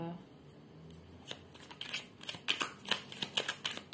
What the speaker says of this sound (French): je vais vous tirer quand même une petite carte des accords Toltec